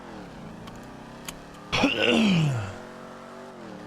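A Dominator car in a video game revs in a single sudden burst whose pitch falls as it fades away, following a quiet hum and a couple of faint clicks.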